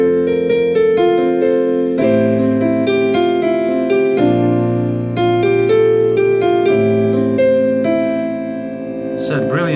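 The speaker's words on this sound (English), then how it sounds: "once I set brilliance to +3, which is the maximum, it sounds like this." Casio PX-360 digital piano played with brilliance set to its maximum of +3, sustained chords and melody notes ringing steadily and close, with no talking.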